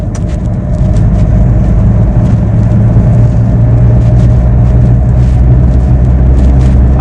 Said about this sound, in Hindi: चलिए गाड़ी को थोड़ा भगाते हैं।